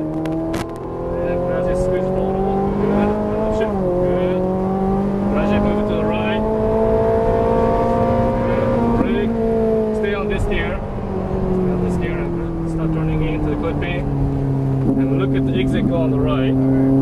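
A Ferrari 458 Italia on the Exotics Racing track in Los Angeles drones loudly from inside the cabin, its engine note rising and falling steadily through gear changes while an instructor talks over it.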